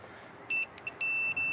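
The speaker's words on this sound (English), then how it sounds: "you can tell that it's beeping because of the way that it's beeping" Multimeter in continuity beep mode back-probing a working light on a CAT 302.5 mini excavator, giving two or three sharp, close electronic beeps in quick succession over faint background hiss.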